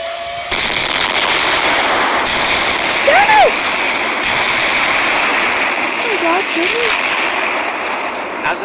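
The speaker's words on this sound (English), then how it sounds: "As an earth-shattering explosion boomed in the distance" A distant, earth-shattering explosion on the Island of Sodor hits suddenly, then settles into a sustained, loud roaring rumble with a few faint whistling tones over it.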